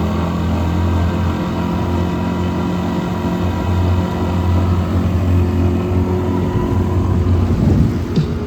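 A duck boat's engine idles along at low throttle, a loud, steady low rumble that runs unbroken throughout.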